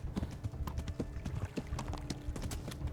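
A horse gallops with rapid, steady clip-clop hoofbeats in Kingdom Come: Deliverance, loud and continuous with faint game ambience beneath.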